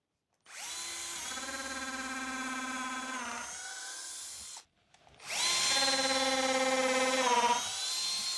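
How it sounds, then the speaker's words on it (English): A power drill bores pilot holes in wood for plant-stand legs in two long, steady whining runs separated by a brief pause, loud and close with no talk. "first I'm going to drill some pilot holes"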